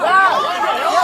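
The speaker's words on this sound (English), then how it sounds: "as you can hear an angry crowd forming in the background" Many agitated voices overlap in a tight crowd at a street festival in Imperial Beach, close and loud, forming a dense, continuous babble of shouting chatter.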